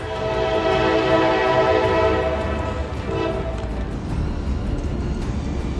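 A train rumbles nearby at a station in Harrisburg, Pennsylvania, with a sustained, tonal horn blast sounding over the rolling noise of the cars, fading slightly toward the end.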